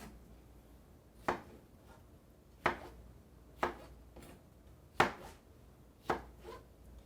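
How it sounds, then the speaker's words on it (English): A knife chops strawberries into small pieces on a cutting board, five sharp, well-spaced cuts landing close and clear against a quiet kitchen background. "it takes a little bit of patience to cut every strawberry into small pieces"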